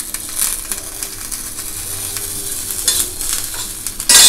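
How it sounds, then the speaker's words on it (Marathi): Cumin seeds crackle and sizzle in a little hot oil beside roasted green chillies for a chilli thecha, giving close, uneven popping and stirring scrapes that grow louder at the end. "आता ह्याच्यामध्ये मी जिरं घालते"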